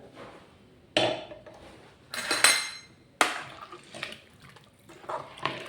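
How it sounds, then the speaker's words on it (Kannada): Water being added to a chicken curry in a pressure cooker, heard as four or five separate splashy bursts mixed with metallic clinks of the pot and utensils, close and fairly loud. "ಬೇಕಾದ ನೀರನ್ನ ಹಾಕಿ ಬೇಯಿಸೋಣ"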